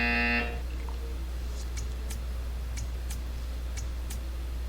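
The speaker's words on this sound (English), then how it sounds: "You will hear a buzzer." A short electronic buzzer from the video game Portal 2 sounds once, a harsh, tonal half-second buzz, then fades into a quiet room hum with a few faint ticks.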